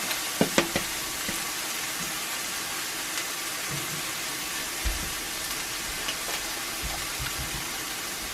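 Eggs poaching in a cast iron pan, a steady low sizzle and hiss with a faint bubbling simmer throughout, broken by a few light clinks and taps of utensils early on and at scattered moments.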